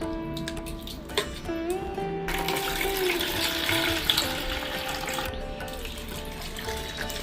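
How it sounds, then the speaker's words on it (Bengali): Water splashes and trickles as sago pearls are rinsed in a bowl, a close, continuous running-water sound with light clinks, over faint background music. "সাবুটা ভালো করে ধুয়ে নিতেছি"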